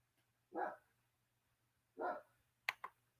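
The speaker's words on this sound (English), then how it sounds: "My dog's barking" A pet dog gives two separate barks indoors, moderately close and spaced about a second and a half apart, followed by a couple of sharp clicks in an otherwise quiet room.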